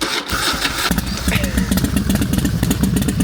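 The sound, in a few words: dirt bike motorcycle engine at Harley stunt show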